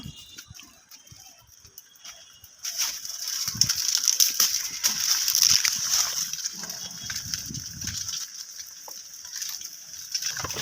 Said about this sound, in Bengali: ভাজা ভাজা করে নেব নুডলসগুলোকে